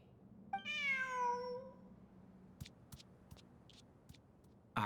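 A cat in the video game Genshin Impact lets out a single clear, drawn-out meow, followed by a few faint, sparse ticks and clicks against a quiet background.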